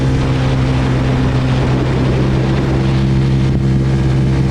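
A CFMoto 300SR motorcycle engine idles and runs steadily nearby, a constant low droning hum with no talking.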